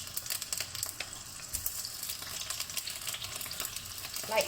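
Raw prawns pan frying in a hot pan, a dense steady sizzle and crackle with occasional sharper pops and spatters running throughout, close and fairly loud with no talking.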